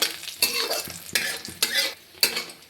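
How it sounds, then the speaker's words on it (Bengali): Lentil dumplings (bori) fry in hot oil while a spatula stirs them, rhythmic scraping strokes roughly every half second over a steady close sizzle, no voices. "বড়িগুলোকে আমি লাল লাল করে ভেজে নেব।"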